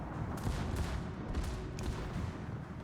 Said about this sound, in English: All guns, open fire. Fire as they bear.